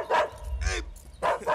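A dog barks three times in sharp, close bursts, with short gaps between them and a low rumbling sound in the background.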